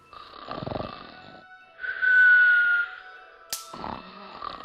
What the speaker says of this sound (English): I've never heard aliens snore like that before.